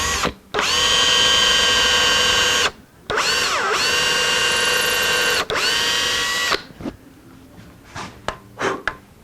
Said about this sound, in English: So we're going to take our drill.